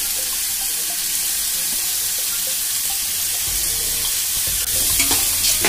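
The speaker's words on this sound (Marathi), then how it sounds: "कांदा घ्यायचा बारीक कापलेला, एकदम बारीक कापायचा, 4 कांदे मोठे आणि ते पण तेलात फ्राय करायचे।" Four large, finely chopped onions fry in oil for chicken seekh dum biryani, making a continuous bright sizzle with light crackles and a few stirring knocks near the end, free of speech.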